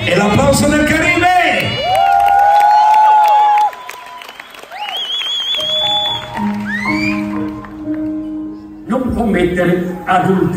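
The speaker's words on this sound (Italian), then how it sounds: "E l'applauso del Caribe!" A live audience at the Caribe club bursts into loud, sustained applause with whoops and cheering, the clapping swelling and fading over several seconds under a bright, music-like backdrop.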